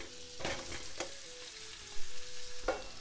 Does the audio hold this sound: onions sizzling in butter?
yes